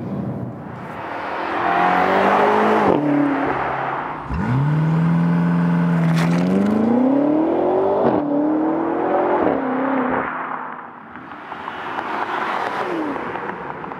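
A BMW X5M or X6M performance SUV accelerates hard on the road, its engine note climbing through several gears with clear upshift breaks, loud and close from inside the cabin.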